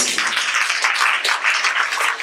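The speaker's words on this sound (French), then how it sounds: "sous vos applaudissements" Audience applause at an end-of-year music school student celebration, dense steady clapping from a crowd filling the short moment with no voices over it.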